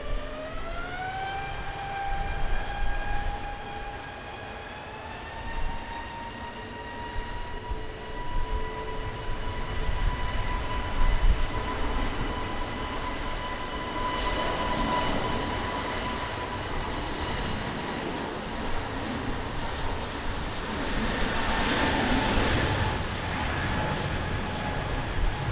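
Passenger jet taking off on runway 20 at Lisbon Airport in a crosswind, a steady, sustained engine roar with rising whine holding loud throughout, no talk over it.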